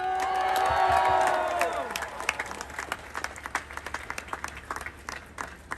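A crowd at a political speech in New York City cheers and whoops loudly over applause, the shouting fading after two seconds into scattered, thinning claps.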